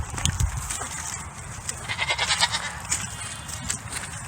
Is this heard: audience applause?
no